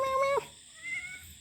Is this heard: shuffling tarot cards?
no